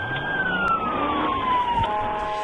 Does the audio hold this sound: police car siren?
yes